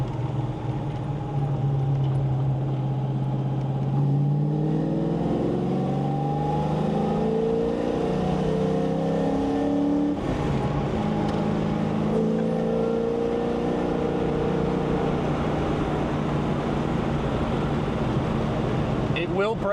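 A 1979 Ford Mustang accelerating on a public road, heard from inside with its engine note rising steadily through the gears in loud, continuous pulls, with a brief shift break and constant road and cabin noise underneath.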